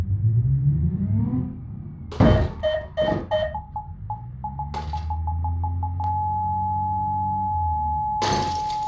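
A car crashes in the BeamNG driving game while fitted with the Hirochi CCF2 mod: an engine drones, then sharp crunching impacts hit in a quick cluster, followed by a steady electronic beep and a final loud burst of noise.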